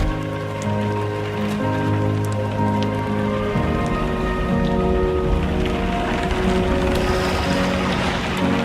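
Rain falls steadily in the video game Death Stranding 2: On the Beach, a continuous loud patter on surfaces under a layer of sustained ambient music.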